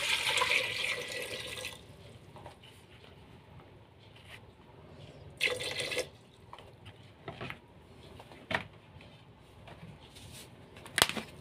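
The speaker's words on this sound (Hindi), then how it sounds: "और हम इसमें पानी डाल देते हैं" Water gushes briefly at the start as it is poured into a pot of potatoes for boiling, then faint splashes and clinks follow in a quiet room.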